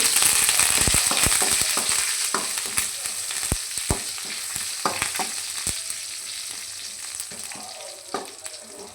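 Curry leaves and dried chillies crackle in hot tempering oil with browned seasoning for a Coorg-style bamboo shoot palya; a loud, dense sizzle with frequent sharp pops and spatters that gradually settles.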